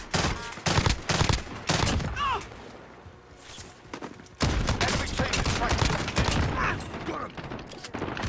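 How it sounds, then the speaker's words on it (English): Video game gunfire crackles in rapid, loud bursts mixed with footsteps, dropping off briefly in the middle before the heavy shooting resumes. "He's just shooting."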